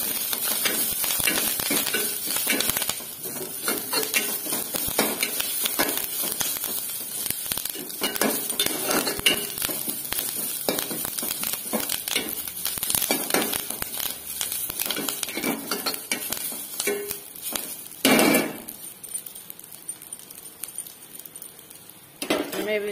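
Steady sizzling and crackling of onions frying in a pan, with occasional stirring and utensil clinks, close up and fairly loud throughout.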